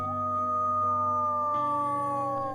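Wolves at a Florida Panhandle sanctuary howl together in a long, sustained chorus of overlapping wavering tones, steady and fairly loud with no talking.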